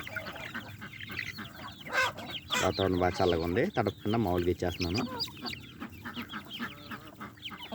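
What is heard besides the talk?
chickens clucking at feeding time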